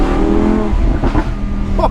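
Lamborghini Huracan Spyder with a sports exhaust, a loud engine drone with sharp pops and crackles from the exhaust breaking through near the end.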